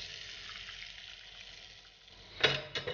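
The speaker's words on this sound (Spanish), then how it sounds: "Los vamos a pasar por harina y freímos los chipirones" Flour-coated baby squid fry in oil in a pan, a steady close sizzle and crackle that runs throughout, with a few louder bursts of spitting near the end.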